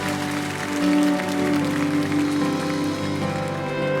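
A church congregation claps together during Sunday worship, steady dense applause blended with sustained instrumental music and singing throughout.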